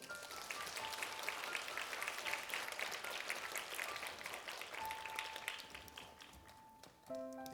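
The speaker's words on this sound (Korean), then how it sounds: "귀한 말씀 전해주신 원장님께 다시 한번 박수 부탁드립니다" An audience at an awards ceremony gives a round of applause for the director, a faint, steady wash of many hands clapping, with a thin tone sounding briefly near the end.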